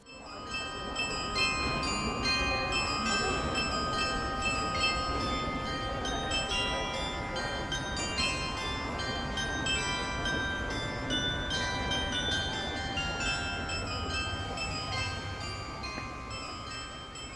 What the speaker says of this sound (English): its standout feature is a carillon, a clock mechanism with bells that chimes daily at noon